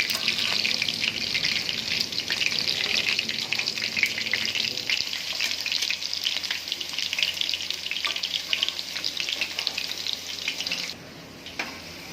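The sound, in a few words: potatoes frying in oil on high heat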